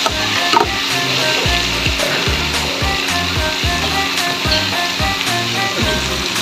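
Papaya and squid sautéing in a pan, a loud crackling sizzle broken by regular knocks and scrapes of the spatula stirring, close up and without voices.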